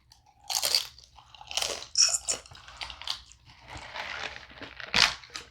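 Loud, close crunching as someone bites and chews fried taco salad with nachos, several sharp crisp bursts followed by steady mastication, no talking.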